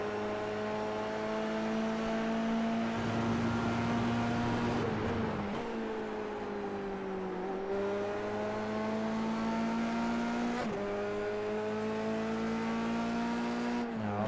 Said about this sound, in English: You can hear the car scrubbing, you can hear it scrubbing the tyres.